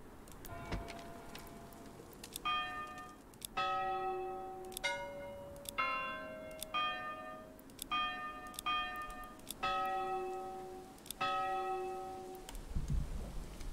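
A church bell gong rings in the Manor Lords strategy game, a clear metallic toll struck repeatedly in an even rhythm with each long ringing tail overlapping the next, and no voices.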